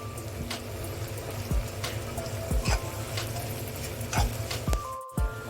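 Curry leaves and turmeric sizzle in hot oil for a leafy greens palya, a steady crackling fry broken by several sharp spatters and stirring clatters, close and moderately loud with no talking.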